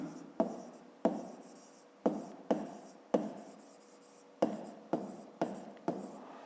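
A pen taps and scratches across paper while a volume formula is written by hand, about a dozen quick, close strokes in an irregular rhythm, each a soft tick followed by a brief scrape.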